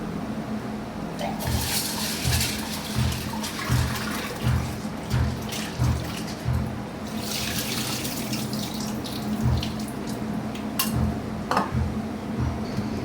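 Chana dal (split chickpeas) being washed in water, with a running tap and splashing in a sink, steady water noise and rhythmic swishing near the mic, with speech heard in places.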